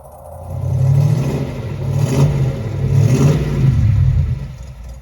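A Ford 289 V8 engine revs in repeated surges, its deep throaty roar rising and falling several times, loud and close with a slight clattering edge, and no voices.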